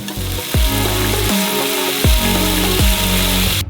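Loud, constant sizzling crackle of chopped leek hitting a hot frying pan, with a few sharp scraping stirs repeating every second or so.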